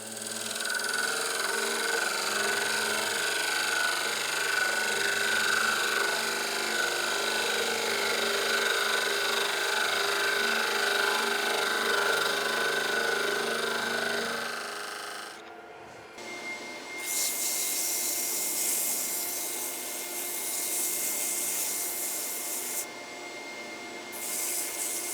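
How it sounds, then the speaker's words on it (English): Abrasive sanding of turned plywood on a spinning wood lathe: a steady, loud rubbing hum with motor drone for about fifteen seconds, then a shift to a brighter, rougher scratchy rasp with brief pauses. "and then we start sanding."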